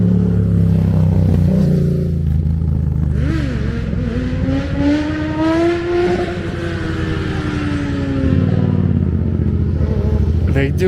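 Motorcycles popping wheelies through the canyons: loud, close engine drone with rising and falling revs as throttle opens and eases, steady and continuous throughout.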